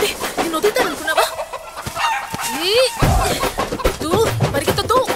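Chickens cluck and squawk in a busy movie comedy scene where people chase a hen, the bird calls recurring amid loud overlapping talk and scuffling.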